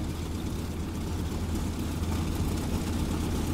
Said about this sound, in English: Definitely has like the growly sound of the Pratt & Whitney